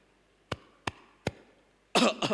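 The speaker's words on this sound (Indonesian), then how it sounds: "Batuk saya saudara" A preacher coughs three times in quick succession during a Thursday church service, sharp and close, before a voice begins speaking.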